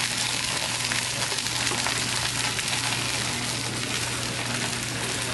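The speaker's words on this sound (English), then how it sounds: "can you see it sizzling there?" Continuous broadband sizzling hiss of chicken frying in a pan, even and fairly loud throughout, with a faint low hum beneath.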